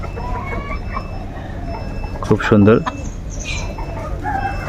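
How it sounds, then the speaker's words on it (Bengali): Free-range native chickens on a large farm cluck and call nearby, with a sharp burst of clucking midway over a low rural background while someone briefly speaks. "দেশি মুরগি পালন করার জন্য বিশাল এরিয়া নিয়ে দেশি মুরগি পালন করতেছে"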